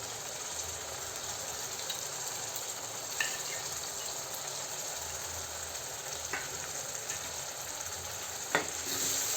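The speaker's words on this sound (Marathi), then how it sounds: "आता आपण यामध्ये हे खोबरं, आलं, लसूण, कोथिंबीर बारीक केली होती मिक्सरमध्ये ते वाटण घालून घेऊया" A paste of coconut, ginger, garlic and coriander fries with onions in a pan, giving a steady, moderate sizzle with occasional faint clinks and stirring scrapes throughout, no voices.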